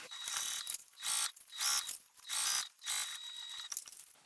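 Sewing machine stitching fabric pieces for a Dew Drop Wristlet, running in four or five short bursts with brief pauses between, close and clear with no voices.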